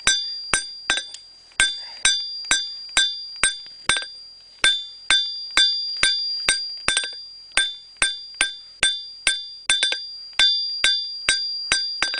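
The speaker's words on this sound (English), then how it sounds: "Just use your hammer to taper the end of it to a point." A blacksmith's hammer strikes hot steel, tapering it to a point, in a steady run of sharp, ringing blows, each clang decaying briefly before the next, with no talking.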